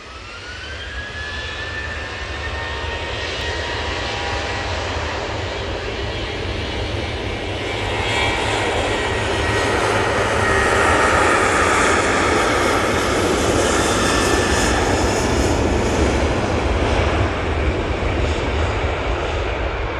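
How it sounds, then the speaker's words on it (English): A TUI Boeing 737-800 jet takes off at Manchester Airport, a loud, steady jet roar that swells and holds for the whole stretch, with no voices over it. "And that's the TUI 737-800 off to Harnia."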